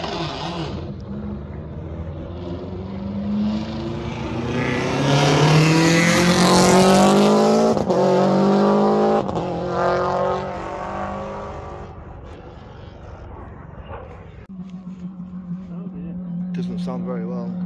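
A Subaru 22B rally car engine roars close by at a hillclimb, running poorly, its pitch sweeping up through revs then dropping, with a sharp change as it settles into a lower idle-like drone.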